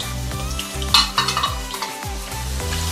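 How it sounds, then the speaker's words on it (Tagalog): Potato and carrot pieces for beef kaldereta frying in a pan, a steady sizzle with repeated stirring scrapes and clinks of utensil against the pan, no voices. "So, ipa-fried ko muna ang ating potato and then yung ating carrots."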